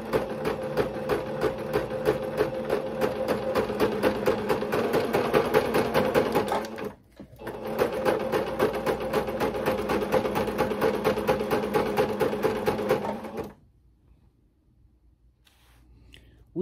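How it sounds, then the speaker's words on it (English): A sewing machine runs steadily as it stitches a channel along a ruffled tutu sock, pausing briefly around the middle before whirring on again, then falling quiet near the end. "So you want to sew a channel on both of your socks."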